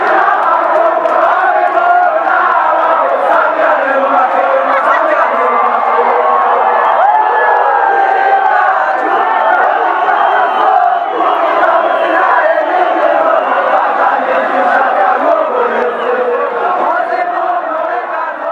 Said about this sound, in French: quand la foule s'est rendue compte que c'est Bob qui rentrait, il a entonné l'hymne national du début à la fin